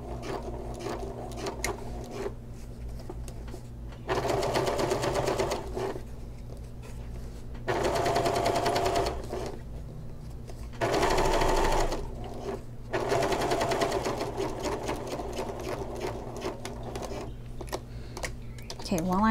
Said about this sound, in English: fold this upward and top stitch across.